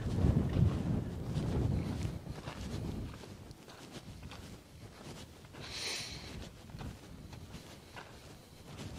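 Wind buffets the microphone in low, rumbling gusts, strongest at the start and easing off, with a brief hiss partway through.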